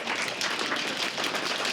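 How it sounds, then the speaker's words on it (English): Applause from a comedy club audience at a stand-up show opening, a dense, steady wash of many hands clapping at once, loud and continuous with no voices over it. "Round of applause and drum roll"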